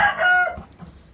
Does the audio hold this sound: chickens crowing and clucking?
yes